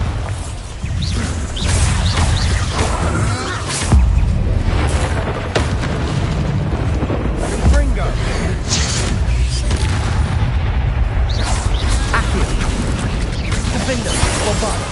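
Heavy Bombarda spell explosions from Hogwarts Legacy boom and crash in a dense, loud barrage, with one blast landing right after another among constant spell-combat noise and speech.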